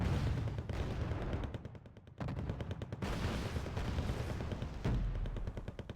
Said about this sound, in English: Bradley going to fire on this Abrams.